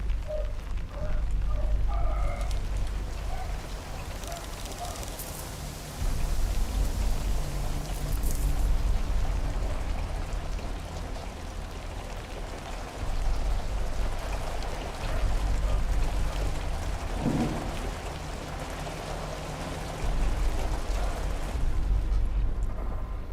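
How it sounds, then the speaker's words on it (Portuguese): Rain falling in a video game, heard through headphones as a steady hiss and patter, swelling and easing in roughly five-second waves with a low rumble underneath and no talk over it. "O som da chuva aqui no fone tava bem legal."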